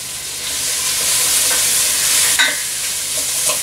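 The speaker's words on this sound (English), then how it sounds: "I'm going to give that a stir" Onions fry in a pan with salt and pepper, giving a loud, constant sizzle. A single spatula scrape breaks through partway as the pan is stirred.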